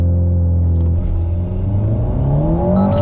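An Alpine A110 GT pulls away hard on launch control, its engine droning loud and close as the pitch climbs steadily through the gear, with a brief dip partway.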